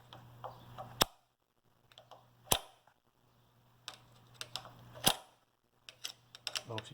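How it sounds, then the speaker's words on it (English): An igniter snaps on an early Associated Hired Man hit-and-miss engine that is under rebuild and powered by a battery. Three sharp, close clicks come a second or more apart, with faint softer ticking between them over a low steady hum. "trip the igniter here and see if it fires"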